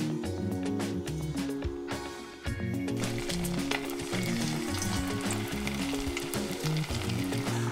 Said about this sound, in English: I'm just going to dredge my goujons in the batter mix, and then straight into the hot oil.